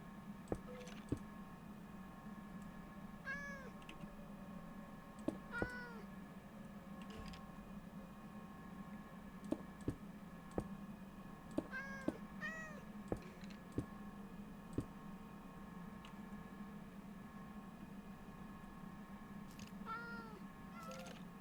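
A cat meows several times in the Minecraft video game over a steady low hum, with scattered sharp keyboard and mouse clicks throughout and no speech.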